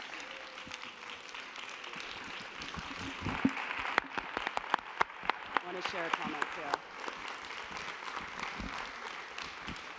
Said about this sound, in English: stand up and give her a round of applause